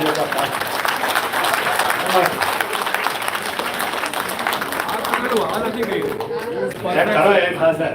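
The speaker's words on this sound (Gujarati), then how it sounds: "એમાં બી તાળીઓ પાડી લો" An audience at a mind-power seminar claps together in a dense, sustained burst, with crowd chatter and voices mixed through the applause.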